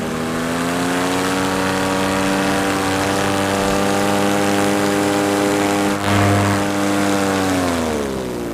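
A paramotor engine drones loud and close through a low pass, its steady propeller buzz holding level and then sliding down in pitch near the end as it eases off.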